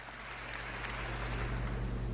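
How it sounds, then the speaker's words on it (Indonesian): Church congregation applauding together in a worship service, a steady, dense wash of clapping that fills the room without a break for about two seconds, with a low hum underneath. "Beri tepuk tangan yang meriah buat Tuhan"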